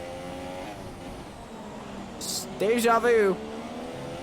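Formula One race cars from Mercedes and McLaren drone around the Brazil round's track, a steady layered engine whine with a voice briefly talking over it near the end.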